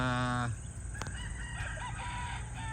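A local banded rooster crows loudly up close on a farm, a strong harmonic call that breaks off after half a second, followed by softer clucks and other fowl sounds in the background.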